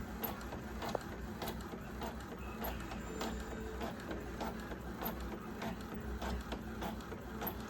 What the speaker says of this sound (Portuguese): coloquei as páginas pares para sair a impressão agora do miolo certinho